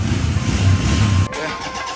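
A motorcycle engine warms up on a monsoon ride to Raigad Fort, a steady close low rumble that drops slightly in level partway through and keeps idling evenly, with no talk.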